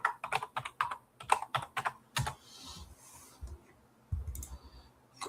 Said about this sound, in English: I don't feel like typing in my doggone password